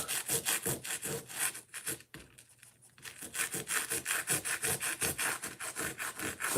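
Rhythmic back-and-forth rasping as a wooden model train track piece is rubbed down by hand, steady strokes close up, pausing briefly before resuming at an even pace.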